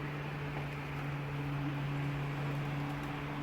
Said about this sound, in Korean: 이 선풍기로 계속 왔다 갔다 하면서 이게 틀어지고 있거든요